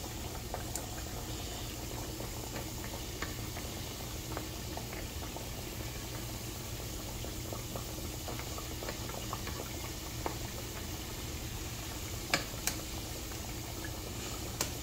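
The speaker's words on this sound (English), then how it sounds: "So I got the pork chop cooking" A pork chop cooks in a pan, giving a steady close bubbling and sizzling with scattered small pops and spits throughout, and no talking.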